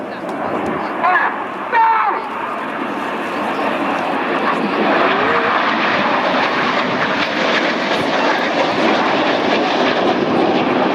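Red Arrows jets fly their display at RIAT 2017, with the synchro pair finishing the final manoeuvre. A broad, swelling engine roar builds and holds, with a voice faintly heard over it.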